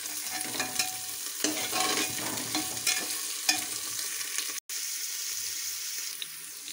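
Carrots for veg pulao sautéing in a pan, a continuous hiss and sizzle with repeated scraping stirs, briefly cut by a moment of silence before the frying resumes.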